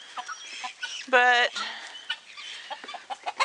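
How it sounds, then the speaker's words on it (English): Chickens in a farmyard pen cluck nearby, a burst of loud squawking calls standing out midway, with someone talking briefly over the birds. "up here, there's a bunch of chickens"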